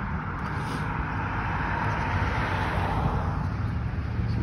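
Steady roadway noise from many cars passing outside on a Saturday afternoon near apartments, a continuous low rumble and tire hiss, moderately distant, with no talk over it.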